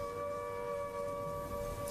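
An air raid siren sounds a sustained, steady wailing tone, faint and distant, with no voices.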